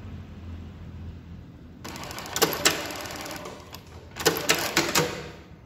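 A Mauser Spezial 591 industrial sewing machine for shoes and bags runs in two short bursts of rapid stitching, with brief pauses and a steady low motor hum underneath.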